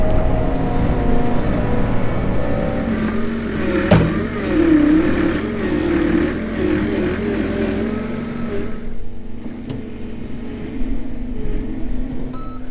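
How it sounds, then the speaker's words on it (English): A skid steer engine drones and labours while shoving a heavy load on a buffalo farm, its loud mid-range rumble rising and falling with revs, a sharp clank near the start, then easing toward the end. "The skid steer moves it around like it's a toy though."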